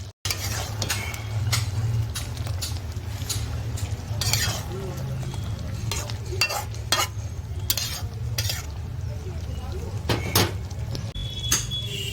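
A spoon stirs and scrapes through a pomfret and mixed-vegetable fish curry with chopped coriander in a pan, loud clanking strokes over a low sizzle, with occasional background voices.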